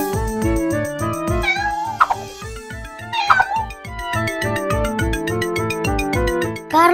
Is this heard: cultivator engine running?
no